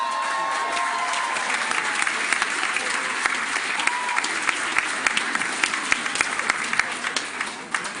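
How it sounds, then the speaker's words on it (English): An audience at a hospital staff awards ceremony claps and cheers for the infection control team, steady loud applause filling the room without a break. "Definitely got a small cheering competition going on now"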